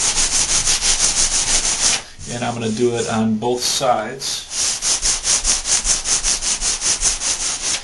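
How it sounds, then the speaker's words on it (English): A sanding sponge scrubs drywall compound in quick, rhythmic back-and-forth rubbing strokes, close and fairly loud, pausing briefly while a person speaks before the steady scraping resumes. "I'm just going to take a sanding sponge and knock down any imperfections"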